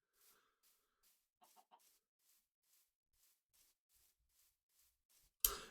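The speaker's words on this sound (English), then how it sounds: "I'm still out here, choking chickens." Chickens clucking in the Minecraft GTNH modpack, faint short clucks repeating at a steady rhythm, with a louder sudden burst at the very end.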